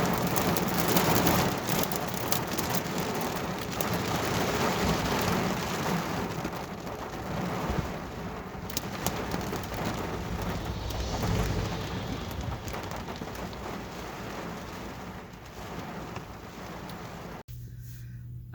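Heavy rain falls outside in a steady, loud wash of hiss and patter with occasional sharper drops, continuing without pause until a brief drop-off near the end.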